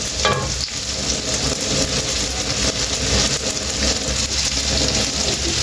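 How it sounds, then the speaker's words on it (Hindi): Carrots frying in oil in a pan for mixed vegetable pickle, giving a steady, dense sizzle that runs throughout with no talk. "गाजरें डाल के भी इसको हल्का सा हमने फ्राई करना।"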